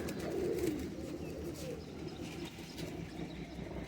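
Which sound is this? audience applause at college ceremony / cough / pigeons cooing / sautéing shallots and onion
pigeons cooing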